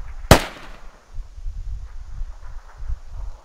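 A single sharp gunshot cracks loudly near the start in the video game Squad, then low rumbling and wind-like noise continue faintly afterward.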